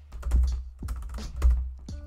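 Keys clack on a computer keyboard as a firewall command is typed on a Linux CentOS 8 machine, a few close, distinct keystrokes spaced unevenly in a quiet room.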